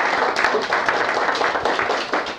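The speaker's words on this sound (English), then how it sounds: "So if you could have a brief applause for her." Brief applause from a lecture audience at a university book talk, a dense, steady patter of many hands clapping at moderate distance, filling the whole moment with no talk.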